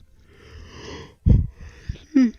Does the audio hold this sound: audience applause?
no